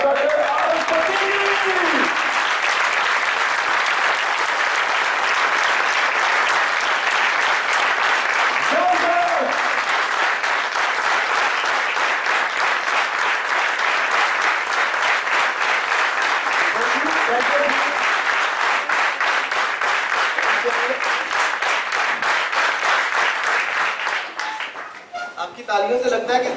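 An audience at an Islamabad training seminar gives Dr Arif Siddiqui a long welcoming round of applause, a thick, loud, even wash of clapping that holds for over twenty seconds before thinning near the end, with faint tonal sounds underneath.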